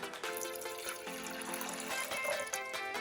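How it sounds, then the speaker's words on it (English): A cup of water poured for a green smoothie makes a quiet, continuous splashing trickle over faint background music. "First, we'll start by putting a cup of water."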